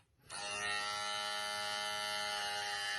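An Andis electric trimmer on beard hair switches on and holds a loud, close, steady high buzz, no voice over it.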